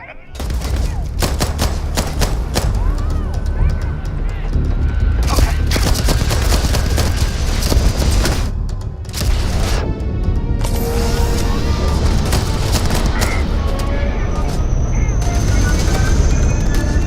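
Dense, continuous gunfire and booming blasts fill a firefight over a ship in the video game Starfield. Rapid shots overlap loudly throughout, with voices heard under the combat.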